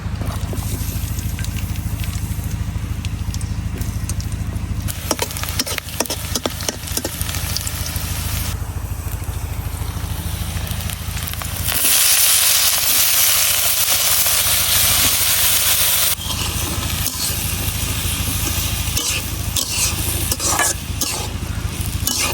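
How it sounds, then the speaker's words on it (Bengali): Chopped onions frying in hot oil in a home kitchen, a steady loud sizzle with bursts of stirring, the hiss swelling midway as they settle into the pan, no one speaking. "তেলে দিয়ে দিতেছি কিছু পেঁয়াজ"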